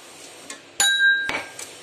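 Roasted whole spices and coriander seeds pounded in a mortar, two loud ringing metallic strikes close by amid softer taps, each hit followed by a brief bright ring.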